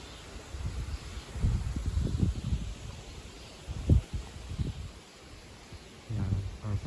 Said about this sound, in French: Il y a un vent de vitesse raisonnable.